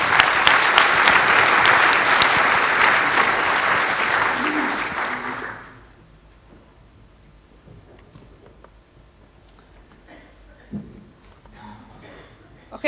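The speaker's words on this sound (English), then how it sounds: "let's give our speaker another round of applause" A conference audience applauds a speaker with dense, loud clapping for about five seconds before it stops abruptly, leaving a quiet room with faint shuffling.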